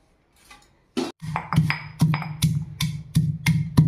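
Black pepper and cumin seeds are pounded coarsely with about eight steady, solid thuds roughly every half second, close and fairly loud after a brief quiet start.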